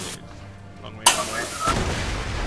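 Gunfire in the shooter game Borderlands: The Pre-Sequel, a single loud close shot cracking out after a quieter stretch, followed by a sustained rumbling tail.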